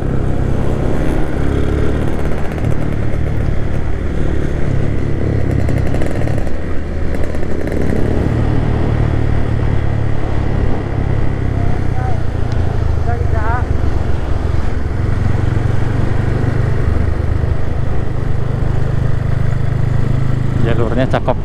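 A motorcycle engine drones loudly and continuously while riding a mountain road in southern Garut, a low steady roar with wind rumble, and a voice speaks over it.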